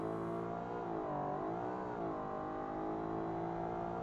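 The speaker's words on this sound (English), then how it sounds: "It revs for days." A car engine in the BeamNG driving game revs continuously, holding a steady droning whine that dips and rises slightly in pitch, loud and alone with no talking.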